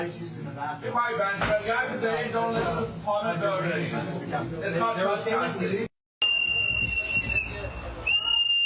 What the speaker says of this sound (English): Oh, now they're blowing their rape whistles.